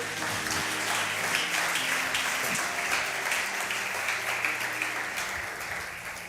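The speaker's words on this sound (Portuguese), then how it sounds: "aplauda forte ao Rei." Worshippers at a church service clap loudly and continuously for the King, a thick sustained wash of applause from a full congregation with faint low voices or music beneath it.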